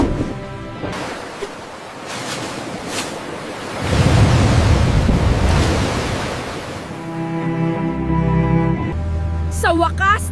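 Ocean surf breaking and washing over windy seaside air, a broad roar that swells louder midway, with an excited voice speaking over it and a brief high chirping tone near the end.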